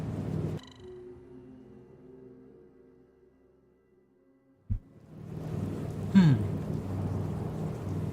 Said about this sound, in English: We've made it back to a rainy Commonwealth